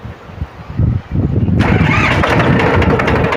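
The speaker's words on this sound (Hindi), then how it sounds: "तो सबसे पहले हम ट्रैक्टर को स्टार्ट कर लेंगे।" A Powertrac tractor engine cranks briefly with rough low thumps, then catches and settles into a loud, steady diesel rumble close by.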